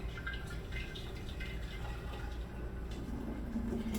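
Watermelon water, agua de sandía, pours steadily into a container without a spout, a soft continuous liquid trickle with faint drips, close and fairly quiet.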